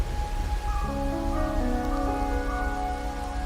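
Steady rain falls in the Wuthering Waves video game, a soft, continuous hiss of drops on surfaces. Sustained musical tones rise and hold over it, with no voices.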